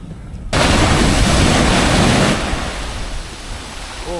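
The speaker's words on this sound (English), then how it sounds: "So we have arrived at a beach I can't pronounce the name of" Waves on a beach in Fiji, with a close, loud rush of breaking surf that crashes in, holds for a couple of seconds, then recedes into a softer wash.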